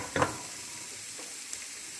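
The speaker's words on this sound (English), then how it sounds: "We're going to get ready to saute our onion" Onion hits olive oil on medium heat, with a short scrape or clatter at the start, then a soft, even sizzle that continues quietly, close and without talk.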